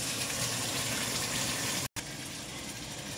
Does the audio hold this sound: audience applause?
no